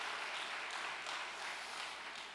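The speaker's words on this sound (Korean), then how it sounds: "함께 수고해 주신 우리 전체를 위해서 박수 한번" Church congregation applauding together, a steady, even wash of many clapping hands for a couple of seconds, moderately loud and without speech.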